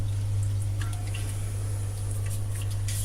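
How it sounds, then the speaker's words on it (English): Fiber dye liquid being stirred in a container, giving soft, faint liquid swishes and small drips over a steady low hum, with no talking. "I'm just going to stir the thing a bit."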